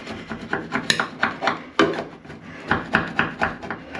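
Harsh scratchy scraping of a tool over surface rust under a car's passenger-side fender near a weld seam, coming as a string of close, repeated rasping strokes in an uneven rhythm, with no voices.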